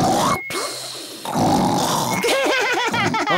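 A cartoon pig voice imitates loud snoring, with rough nasal grunting snorts and warbling wheezes, starting after a brief pause and swelling in bursts.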